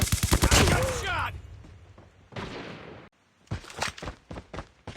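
Gunfire in the Call of Duty Mobile video game: loud rapid bursts of shots, then a short gap, then more clipped volleys, with game voice callouts heard between them.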